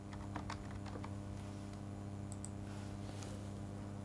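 Someone types on a computer keyboard in quick bursts of light clicks at close range, over a constant low electrical hum, with the keys going quiet partway through and no talking.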